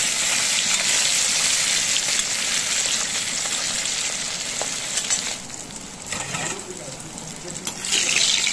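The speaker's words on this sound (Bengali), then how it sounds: "মাছটা ভালো করে লাল লাল করে ভেজে নেব।" Katla fish sizzling loudly in hot oil, a steady hiss throughout with brief clatters and stirring toward the end.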